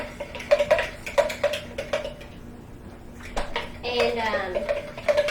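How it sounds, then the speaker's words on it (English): Liquid ingredients whisked in a bowl at a 4-H cooking club, rapid rhythmic clinking and tapping of the whisk against the bowl, close, with voices talking faintly in the background. "So then I'm just going to whisk all of this up"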